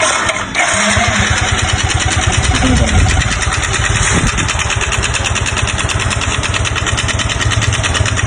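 A motorcycle engine with a fault that makes it run noisily, checked at a motorcycle repair shop, runs loudly and continuously nearby, with a steady rapid chugging rhythm and a rattling, noisy mechanical clatter.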